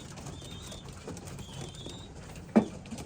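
Racing pigeons cooing in a loft of breeding cocks, soft low coos repeating faintly in the background, with a brief sharp flutter or knock near the end.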